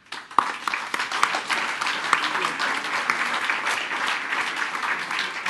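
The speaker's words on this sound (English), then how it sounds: "we want you all to applaud yourselves because you deserve it." Dense, sustained applause fills the room at a film and television school award show, with voices faintly mixed into the clapping.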